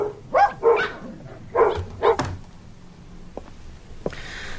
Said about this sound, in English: That's right, you foul dogs. Shut up.